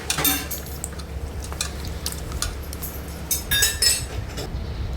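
Cut ridge gourd pieces being washed in a metal pot, with scattered clinks and knocks of pieces against the pot and splashy stirring, close and moderately loud, no talking.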